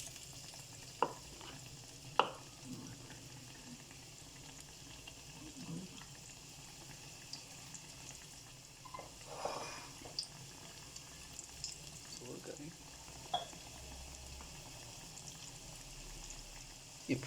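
Dahi bhalla batter fries in oil in a kadai, a quiet, steady sizzle with occasional soft clinks and stirring knocks, heard alone without talk.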